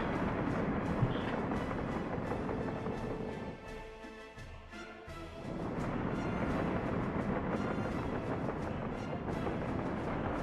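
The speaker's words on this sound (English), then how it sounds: "Look at that beautiful train rolling out." A train rolls out in the Soviet-era city-building game Workers & Resources: Soviet Republic, a loud, steady rumbling clatter that dips briefly midway before surging back to full strength.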